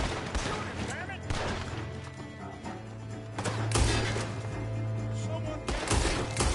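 Gunfire in Red Dead Redemption 2: repeated shots in a dense fusillade, loud and close, with a steady drone running under the bursts.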